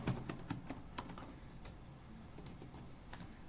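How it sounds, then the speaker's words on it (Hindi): ESP32 code for Sinric Pro is typed on a computer keyboard, producing a quiet, steady patter of light key taps with no voice over it. "अब यहाँ पे लिखेंगे अपन डिजिटल राइट"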